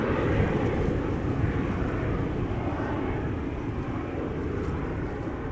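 A KLM Boeing 737 departing Schiphol's Polderbaan for Copenhagen produces a continuous, even engine roar, heavy in the low end and holding steady without voices.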